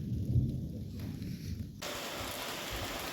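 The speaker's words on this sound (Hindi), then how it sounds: "बादल के गरजने की आवाज़ और रिमझिम बारिश लग गई है।" A deep rolling rumble of thunder fades out in the Uttarakhand hills, and then a steady wash of light rain hisses evenly in the background.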